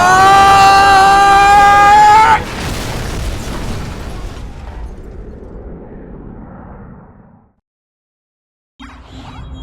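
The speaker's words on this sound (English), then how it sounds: "Holy shit, a nuke went up!" A nuclear blast in a Modern Warfare game opens with a loud, harsh burst, then rolls into a long fading rumble that drops to silence before a faint sound returns at the end.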